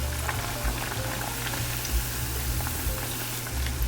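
Tofu frying in a pan, a steady dense sizzle and crackle with occasional spitting pops, close and continuous with no talking.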